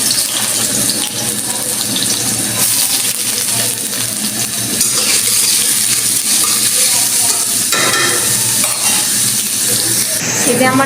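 Onions frying in a pan for homemade chicken curry, a steady loud sizzle with clinks and stirring scrapes close by, and household voices at times.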